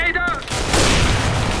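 A grenade blast in the CS:GO video game bursts after a brief shouted voice, then leaves a loud, broad, sustained roar of noise that fills the rest of the moment.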